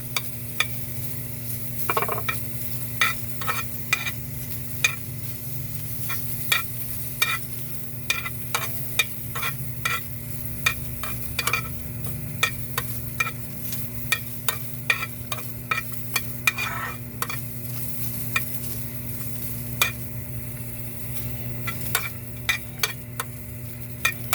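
Food sautéing in a pan, frying steadily with repeated sharp scrapes and clinks of a utensil against the pan, close and fairly loud over a constant low hum.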